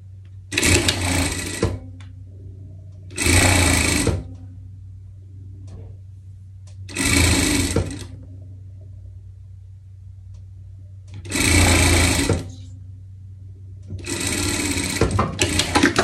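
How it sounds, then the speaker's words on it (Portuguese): Sewing machine stitching a seam on a hot-dog pet costume, running in five separate bursts of one to two seconds each with short pauses between, steady and close under a low background hum. "Daqui até aqui a gente vai passar uma costura"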